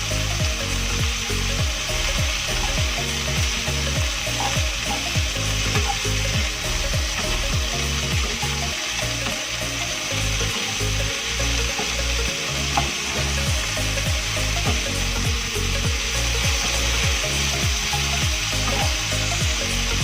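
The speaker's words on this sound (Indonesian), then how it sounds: "Kemudian langsung saja kita masukkan bunga katesnya ataupun bunga pepayanya. Aduk kembali." Papaya flowers stir-fried in a pan for a Chinese-style dish give a steady, loud sizzle, with repeated scraping stirs running through it and no talking.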